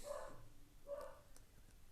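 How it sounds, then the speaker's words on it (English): A pet dog barking in the background, two faint barks about a second apart, heard from a distance in a quiet room. "My dog is barking."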